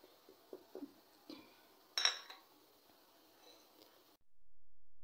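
Whole spices, cinnamon powder, a small piece of nutmeg and green cardamom pods, being mixed in a bowl for biryani, with light clinks and taps of a spoon against the dish, a sharper scrape midway, fairly quiet and close.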